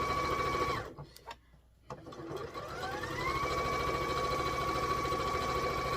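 A sewing machine stitching quilt pieces for a no-bake jolly bar quilt pattern, a steady close mechanical whir that pauses briefly with a few clicks, then resumes and runs continuously; no talking.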